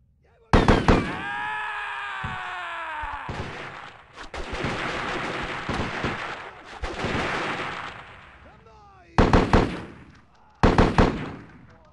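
Loud, close gunfire from the video game Delta Force 3: Land Warrior: sustained bursts with ringing tails, then two sharp separate shots near the end.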